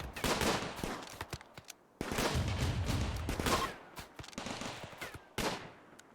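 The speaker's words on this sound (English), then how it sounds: "The report of that autocannon's awesome." Heavy autocannon fire in RimWorld: dense, rapid bursts that roar for about two seconds, break off briefly, then resume in loud volleys with short gaps and sharp isolated reports.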